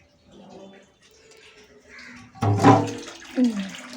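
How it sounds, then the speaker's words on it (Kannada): Borewell water arrives at a home supply, and after a quiet stretch it comes out in brief gushing, splashing bursts of running water. "ಬೋರ್ ನೀರು ಬಂದಿದ್ದಾವೆ"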